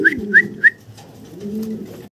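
Racer pigeons call up close: three quick, sharp notes followed by a low, rolling coo, with no speech.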